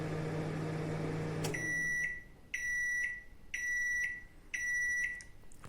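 Samsung MG23K3515AW 23-litre microwave oven with grill hums steadily, then the hum stops and a series of four loud, evenly spaced electronic beeps sounds close by.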